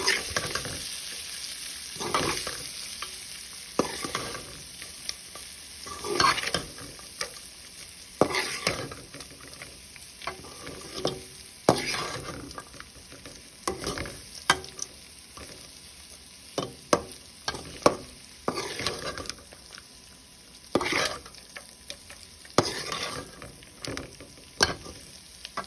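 Cooked rice being stirred with salt in a hot pan for lemon rice, with repeated scraping and stirring strokes over a faint sizzle, close and steady for the whole stretch with no talking.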